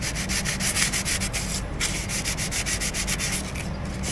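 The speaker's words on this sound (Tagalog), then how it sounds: "Tatanggal naman siya sa liha eh." Sandpaper scrubs back and forth across a Trek Marlin 6 bicycle's brake parts in quick, steady strokes, a loud, close, rasping rub with no talking.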